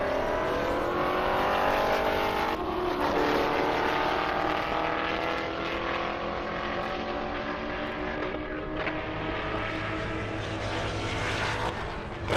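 A Corvette makes a half-mile drag run on an airport airstrip, its engine roaring in a long, steady, loud pull with rising gear tones and a shift partway through, the noise slowly fading as it moves away.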